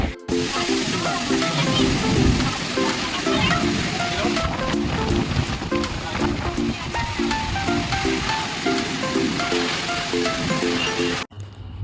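Heavy water flow over a dam after strong rains, a dense continuous rushing roar. Music plays over it, and the sound cuts off just before the end.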